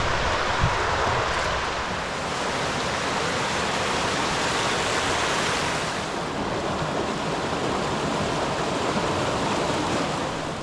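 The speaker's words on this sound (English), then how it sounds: "Oh wow, what a beautiful falls down there." A waterfall cascades down from a lake in the Algonquin backcountry, a steady, loud broadband roar of rushing water that fills the scene without pause or voices.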